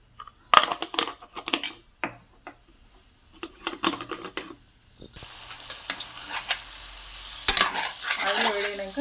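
Cumin seeds drop into hot oil in a wide pan for chicken fry, with scattered scraping and clinks of a utensil first, then a steady bright sizzle building alongside occasional stirring taps, close and fairly quiet.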